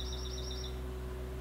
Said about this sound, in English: It's that red cardinal again.